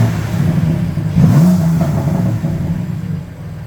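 A nearby BMW M4 S55 engine fitted with Eventuri drop-in panel intake filters revs up with a deep, whooshing roar, then eases off into a lower hum.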